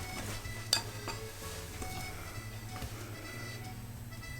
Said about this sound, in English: we need a little bit more whisking